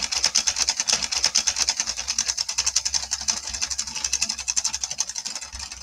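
A Sentro 22 circular knitting machine is cranked steadily by hand, giving a fast, even rhythm of plastic clicks and rubbing ticks repeating close up and loud, with no talk.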